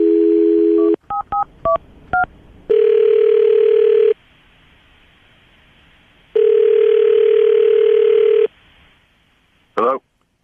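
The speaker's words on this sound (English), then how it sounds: "I'm about to dial Terrence's phone number, see if we can get him on the phone" A telephone is dialed over a steady dial tone, with a quick string of touch-tone beeps and then two long ringback tones separated by a pause, loud and clear with no talk over them.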